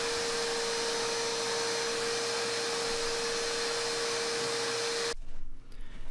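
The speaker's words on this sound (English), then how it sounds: "It's very important to vacuum all the dust and sawdust so the epoxy creates a tight bond" Vacuum cleaner sucking sawdust and dust off a live-edge wood slab before epoxy pouring, a steady, loud whining roar that runs for about five seconds and then cuts off abruptly, leaving faint handling noise.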